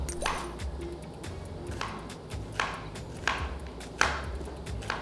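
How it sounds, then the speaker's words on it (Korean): Knife chopping onion and carrot for japchae in a home kitchen, a series of sharp board taps at uneven intervals, moderately close, with a faint low background hum. "양파 좀만 더 썰어도 되겠다."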